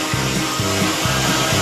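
A chainsaw cuts through a wooden floor during a roof-raising renovation, its engine droning loud and steady with a rhythmic bogging surge repeating roughly every half second as the blade bites, with no talk.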